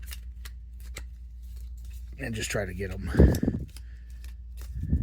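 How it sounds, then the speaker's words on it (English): Quick overhand shuffles of a Sabacc card deck, a run of soft, rapid papery flicks and clicks near the microphone, followed by a person talking with more card handling underneath. "I just do several quick overhand shuffles"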